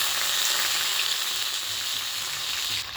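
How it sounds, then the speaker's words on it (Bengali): Pieces of thick drumstick (sajne) stalk frying in hot oil, a steady, loud, continuous sizzle that stays close and even, dropping off slightly at the very end. "এই দেখো তেলটা হয়ে গেছে, এবার আমি কেটে রাখা ডাঁটাগুলোকে দিয়ে দিচ্ছি।"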